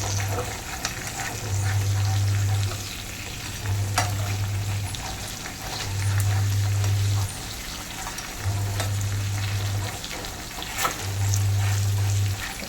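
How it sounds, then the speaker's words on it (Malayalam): Pearl spot fish (karimeen) frying in a pan, a steady close sizzle of hot oil running throughout, with a low repeating hum and a few faint clinks and scrapes. "നമ്മുടെ കരിമീനിയുടെ ഒരു സൈഡ് ഫ്രൈ ആയി നോക്കാം"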